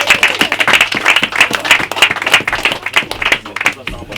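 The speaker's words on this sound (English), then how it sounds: "A round of applause for Sam." An audience at a spoken-word poetry night breaks into loud, sustained clapping for the performer, a dense, close patter of many hands that carries through the whole stretch.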